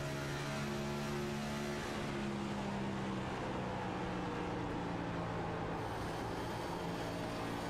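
A NextGen Cup race car engine in the iRacing sim at Miami, throttle feathered to keep the rear planted, droning steadily with a shifting, wavering pitch that rises and dips as the power is eased on and off, close and continuous.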